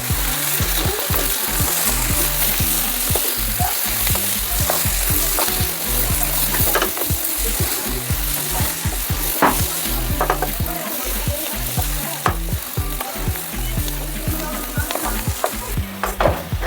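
A curry of young tamarind leaves with dried fish sizzles loudly in the pot while being stirred, steady frying hiss broken by repeated scraping strokes of the spoon, close and continuous with no voices.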